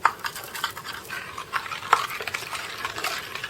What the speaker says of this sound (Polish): Mieszam to wszystko